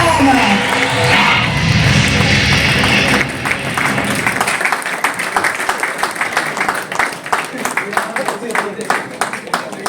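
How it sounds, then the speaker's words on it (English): Audience applause greets the unveiling of a women's handball league logo, a dense crowd roar at first that thins into steady, individual clapping with claps audible as distinct sharp hits toward the end. "Big round of applause once again."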